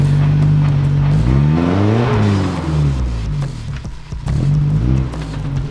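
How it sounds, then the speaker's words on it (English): A 4WD truck with an open differential revs hard on a steep hill as the front left tyre spins, the engine pitch swooping up and back down in loud, close surges before settling. "All I'm doing is spinning that front left tyre there due to my open diff"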